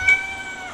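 A male house cat gives one clear, close meow lasting under a second, with a bright tone that fades slightly toward the end, heard indoors in a kitchen.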